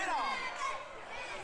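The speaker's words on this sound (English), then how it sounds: "The crowd trying to get behind Kevin." A wrestling crowd roars and chants at an FSW event, a steady dense wall of voices rising and falling as fans rally behind wrestler Kevin Kross during his match against Gallo, with voices blended into the din.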